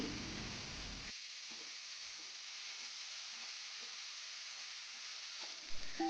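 Three medium tomatoes, cut up, fry in a pan for paneer butter masala, giving a quiet, steady sizzling hiss that runs unbroken throughout, with a couple of soft knocks near the end and no talking.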